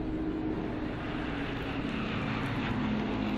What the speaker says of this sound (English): The traditional flyover is by RAF planes in the Queen's honour.